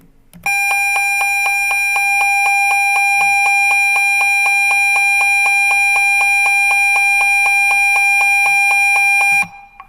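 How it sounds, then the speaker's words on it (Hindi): A computer program loop sounds a fast, rapid-fire run of identical high electronic beeps. The beeps are loud and evenly spaced, continue for about nine seconds with no pause, then stop abruptly. "हर बार इसमें क्या हो, बीप का साउंड पैदा हो"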